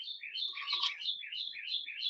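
Several small birds chirp and tweet in quick repeated bursts, bright and fairly close, overlapping one another in a steady stream of calls with no one speaking.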